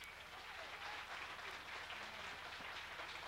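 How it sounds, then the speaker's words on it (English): Church congregation applauding inside the building, a dense, continuous patter of many hands clapping, fairly faint and without speech. "Clap your hands all over this building."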